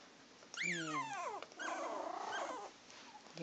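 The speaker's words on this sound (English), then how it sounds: "There's the one that's growling." Miniature Schnauzer puppy growling in short, rising whiny bursts, close and fairly loud, with two growl phrases separated by a brief pause.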